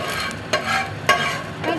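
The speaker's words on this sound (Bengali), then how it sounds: "ডিমটা ভেজে দিয়ে দিলাম।" Fish roe frying in a hot pan gives a steady close sizzle, broken by a couple of sharp scraping stirs partway through, with no talk.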